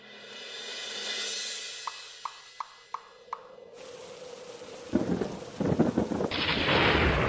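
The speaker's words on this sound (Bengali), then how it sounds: "এই তো ঝড় বৃষ্টি শুরু হয়ে গেল" A thunderstorm breaks with rain: low rumbling builds under a few sharp knocks, then a loud crash of thunder gives way to heavy, close rain pouring down and swelling toward the end.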